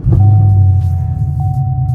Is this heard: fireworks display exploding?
no